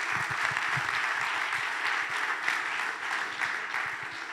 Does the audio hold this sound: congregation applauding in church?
yes